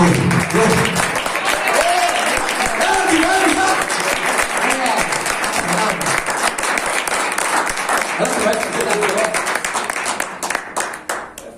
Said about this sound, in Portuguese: E as palmas do Senhor.